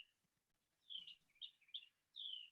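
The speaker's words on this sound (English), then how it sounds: "I hear birds singing." Birds sing outdoors on a calm day, a few bright chirps and short whistled phrases in a quiet setting, faint and somewhat distant, with no speech over them.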